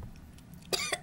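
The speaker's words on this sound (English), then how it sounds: "Well, I didn't choke, but just coughed." A person coughs twice near the end, with short harsh bursts close to the mic after a quiet stretch.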